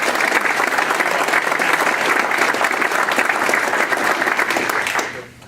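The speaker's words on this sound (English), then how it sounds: "Let's give Jay a big round of applause" Audience applause at an awards ceremony, a dense steady wash of many hands clapping for about five seconds before quickly fading out at the end.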